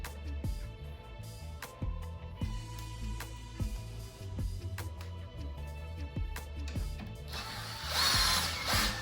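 A power drill runs in short bursts while a sofa recliner is being disassembled, with repeated sharp clicks and mechanical clunks at a moderate, fairly quiet level, ending in a brief higher whir.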